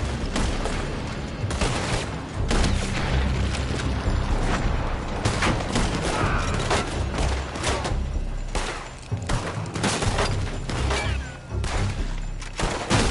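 Heavy gunfire in Red Dead Redemption 2 during a firefight at a building, with overlapping shots, booms and thuds forming a loud, continuous barrage for over ten seconds.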